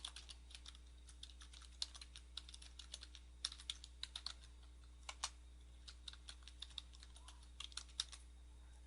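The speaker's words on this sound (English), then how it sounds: "then we will type in the site address" Fingers typing a website address on a computer keyboard, a run of quick, light key clicks in irregular bursts with short pauses, close and fairly quiet over a faint steady hum, no voices.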